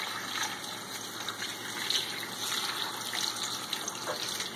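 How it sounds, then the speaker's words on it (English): Distilled water pours steadily into a pot for making potlicker, a continuous close splashing gush with no talk. "so we'll just add distilled water in there"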